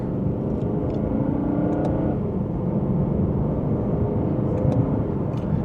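A 2025 Lexus IS500 F Sport with its naturally aspirated V8 pulls gently from second gear, giving a steady, close engine rumble that holds at an even level through the run, with no talking.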